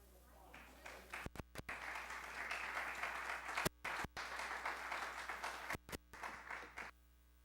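An audience at a hospice quality-of-life panel breaks into applause for a speaker, a dense, sustained clapping that swells and holds for several seconds, with a few sharp bangs cutting through.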